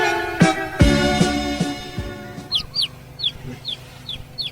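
Chickens clucking and squawking nearby, several sharp calls at the start followed by a rapid series of short chirpy clucks, mixed with some background noise and no clear talk.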